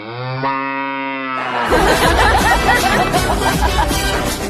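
A large buffalo lets out a long, loud, close moo that rises and roughens, then merges into a dense, noisy burst that lasts to the end.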